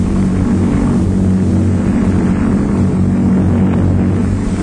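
Lockheed Loadstar twin-engine airplane fully loaded at 17,500 pounds speeding down the runway for takeoff, a loud continuous roar of propeller engines with a steady low drone throughout.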